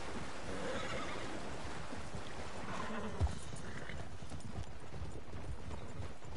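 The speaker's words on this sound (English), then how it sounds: "Everyone's horses start running." Horses in Red Dead Online, heard on a trail ride near water, gallop with steady hoofbeats and give a short neigh amid a continuous splashing, rushing background, with no talk over it.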